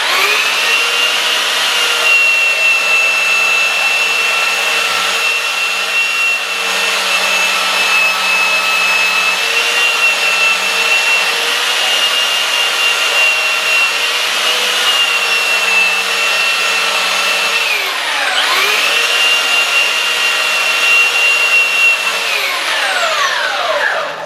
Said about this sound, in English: this cedar sands really fast